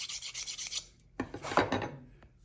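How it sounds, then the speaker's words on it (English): A metal rocker arm part for an exhaust valve on a hit-and-miss engine being filed by hand, with a rasping burst of strokes, then a pause and a louder, closer run of scraping strokes. "So I'll clean that up and file it"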